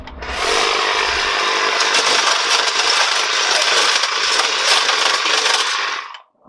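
A Milwaukee M18 Fuel cordless brush cutter runs at full speed cutting through wooden dowels of various thicknesses, a loud, steady high-pitched whine with rough scraping texture that holds for about six seconds before cutting off.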